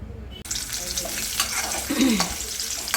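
Chopped onion hits hot oil as a tempering in a pan for a homestyle chicken masala, bursting into a steady, close, bright sizzle after a brief quiet start, with faint clinks of utensils.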